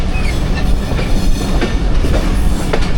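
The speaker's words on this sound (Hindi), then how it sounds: "लूप लाइन से हम पास हुए हैं दोस्तों, और अब मेन लाइन पे डाइवर्ट होगी हमारी ट्रेन।" Loud, steady rumble of the Jaffar Express passenger train crossing from the loop line onto the main line, wheels clattering over the points close by with a continuous roar and no talk.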